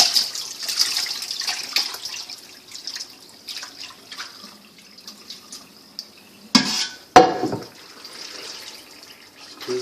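Water squeezed by hand out of beef tripe drains into a strainer, heard as close, irregular splashes and trickles with a few sharper wet slaps toward the end.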